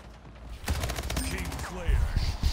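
SMG fire in the portal shooter Splitgate starts after a short quiet lead-in: a quick string of close, sharp shots, then scattered impacts and game effects, with faint voice-like sounds in the mix.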